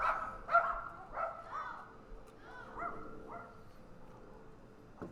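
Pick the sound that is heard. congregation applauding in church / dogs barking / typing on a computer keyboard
dogs barking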